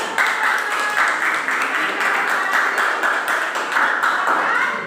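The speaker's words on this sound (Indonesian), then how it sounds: "Bagus sekali, tepuk tangan." A classroom of students clapping together, a dense, steady burst of applause lasting several seconds, close and lively.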